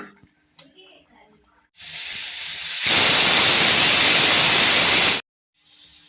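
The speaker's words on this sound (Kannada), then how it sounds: "ಇವಾಗ 3 ವಿಸಲ್ ಬಂದಿದೆ." A pressure cooker on the stove, cooking lentil and greens sambar, lets out a loud steady steam hiss that swells and holds for a few seconds before cutting off abruptly, alone without talk.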